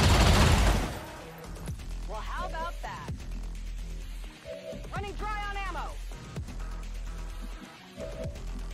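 Gunfire in the video game XCOM 2, a loud burst at the start followed by game effects and tones, with a voice talking over it.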